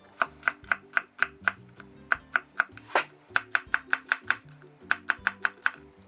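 A small onion being halved and cut with a knife on a wooden board, giving a rapid series of sharp close chops with short pauses; a faint voice murmurs underneath.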